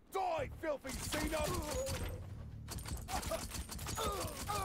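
Gunfire and chaotic combat noise from shooting at a slugger in the Warhammer 40,000: Shootas, Blood and Teef video game, with dense bursts of shots and impacts, loud and close, mixed with grunts and game voices.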